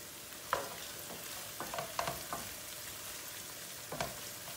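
Red peppers fry with sautéed onions in a pan, giving a faint low sizzle broken by scattered spatula taps and scrapes, fairly quiet and close.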